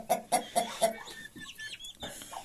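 A chicken clucks four times in quick rhythm, then quieter fowl sounds follow, close and clear.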